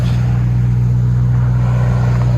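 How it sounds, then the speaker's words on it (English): A supercharged 6.2L Hemi V8 in a Ram TRX pickup with a straight-pipe exhaust drones loudly and steadily up close, a deep constant rumble held throughout without speech. "Beast mode. Ram TRX. Straight pipe."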